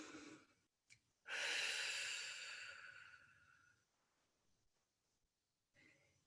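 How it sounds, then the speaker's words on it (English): A group draws a long, slow deep breath together, a steady rushing inhale lasting about two and a half seconds that fades out, followed by a quieter exhale, with a faint voice at the start. "let's just all take a deep breath together"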